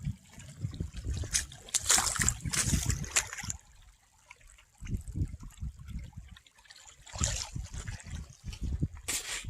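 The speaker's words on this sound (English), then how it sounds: "This water is running out of a neighbor's property." During monsoon rains, runoff from a neighbouring property flows and trickles steadily nearby, with louder gushing surges at times and scattered noise from people or movement.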